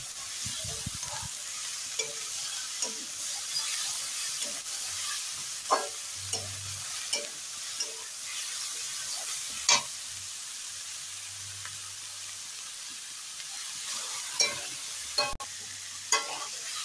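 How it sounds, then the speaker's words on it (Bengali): Vegetables fry lightly in a pan for white sauce pasta, a soft steady sizzle broken by repeated spatula scrapes and stirring clatters at irregular intervals, close by with no talking. "তো সেই হিসাবে আমরা হালকা হয়ে ফ্রাই করছি"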